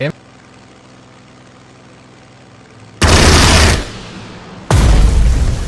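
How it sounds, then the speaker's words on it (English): Two loud, booming explosion blasts from the naval war game Strategic Mind: The Pacific erupt over a steady low aircraft engine drone, the first rumbling for about a second before fading. "Explosion! I love it."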